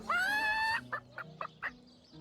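A chicken in the fantasy role-playing game Divinity: Original Sin 2 gives a drawn-out squawk followed by a few short, spaced clucks, close and clear with no talk over it.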